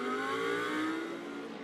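A GT race car accelerates out of a corner during the CrowdStrike 24 Hours of Spa, a steady, moderately distant engine drone whose pitch rises gently before easing off, with no one talking.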